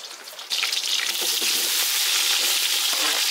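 Onion and tomato drop into hot sesame oil with whole spices in a Kerala village kitchen, bursting into loud, steady sizzling after a quieter moment, continuous and close with no talk.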